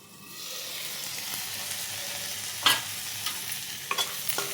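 Ingredients fry in a pan, giving a steady, close hiss of sizzling oil broken by a few sharp clinks and scrapes of stirring near the end.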